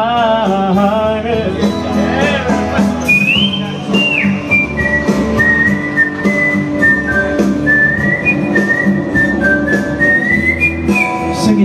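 A clear, melodic whistled tune carries over steady music accompaniment, sliding between held notes for most of the stretch.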